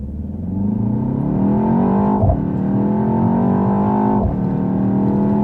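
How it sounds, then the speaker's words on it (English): A BMW X2 M35i accelerating hard from a rolling start, engine note climbing steadily and loud with two brief gear-shift dips, no talk. "Then you can see speed and how quickly it accelerates."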